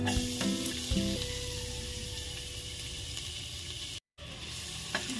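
Minced garlic sizzling in a little hot cooking oil for chicken soup, a steady loud frying hiss with a couple of brief stirring knocks and one short dropout.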